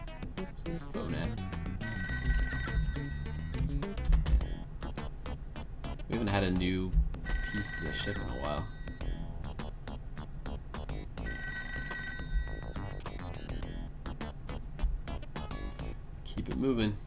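Telephone ringing in the ToeJam & Earl video game, a repeated electronic bell trill recurring in bursts over game music while someone talks throughout.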